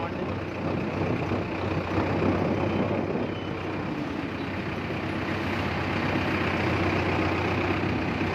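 A Mahindra Novo 605 DI tractor with PS shuttle gear runs steadily at close range, giving a constant low diesel drone with no breaks.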